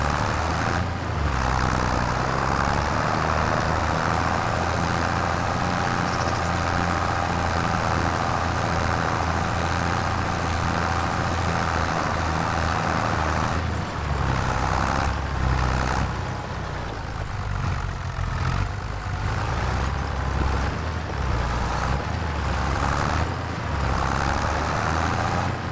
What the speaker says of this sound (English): Yeah, the tractor's struggling a little bit.